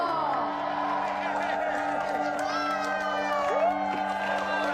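Crowd cheering and whooping for a congressional candidate at a Manila campaign rally, a continuous roar of voices with scattered shouts and some clapping mixed in, steady and fairly loud throughout.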